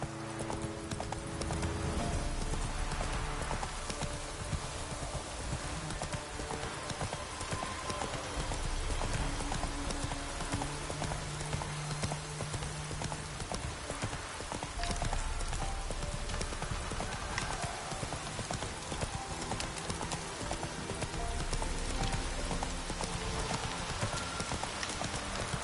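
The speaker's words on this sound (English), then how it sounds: "Whoa there, Roach." Steady, rhythmic clip-clop of a galloping horse's hooves in the Witcher 3 video game, continuous and fairly close, over a dense game soundscape with no talk.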